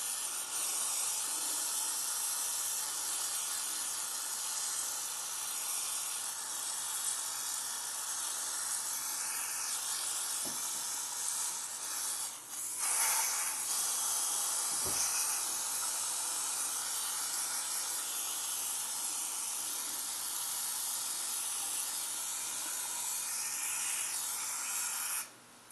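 A steady, loud hiss of aerosol cleaner sprayed into the carburetor of a 1996 Honda CBR F3 motorcycle runs almost continuously, with only a few brief breaks.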